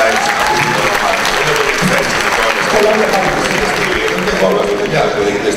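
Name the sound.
applause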